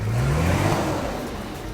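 A Nissan GQ Patrol 4x4 engine revs hard under full throttle, a loud close roar rising in pitch, then settling into a sustained droning whir.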